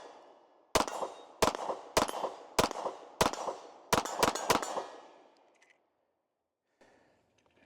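A Nighthawk Sandhawk Single Stack pistol fires eight sharp shots outdoors, loud and close, at a quick, slightly uneven pace that tightens into a rapid cluster at the end, each crack trailing a short echo before quiet.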